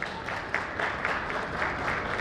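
Applause from an audience at a medical honors ceremony at The Royal Palace welcoming Dr. Nilesh Jain, a steady run of many hands clapping at moderate level.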